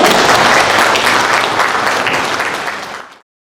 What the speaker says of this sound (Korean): 이 청년들을 위해서 박수 한 번만 쳐주시고요